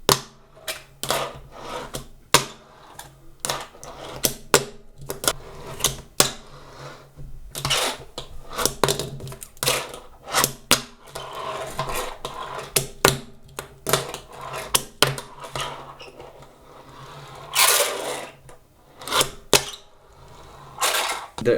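A skateboard on Oak wheels rolls over pavement: a soft rolling hiss broken by frequent sharp clicking knocks, irregular and fairly close, with no talking.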